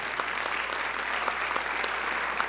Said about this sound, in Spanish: quiero darle un aplauso a todos ellos